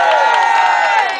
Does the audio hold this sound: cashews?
no